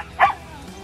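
A husky gives a single short, sharp bark, close and loud, followed by quiet.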